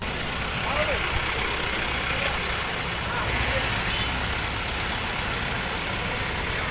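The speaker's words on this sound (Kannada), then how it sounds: "ಹಿಮ್ಮುಖ ಟ್ರ್ಯಾಕ್ಟರ್ ಟ್ರೇಲರ್ ಸಮೇತ ಓಡಿಸುವ ಮೂಲಕ ಗಮನ ಸೆಳೆದರು" A tractor towing a trailer, driven in reverse on a long road journey in Davanagere district, Karnataka, runs with a steady, continuous engine drone under a wash of outdoor noise and voices.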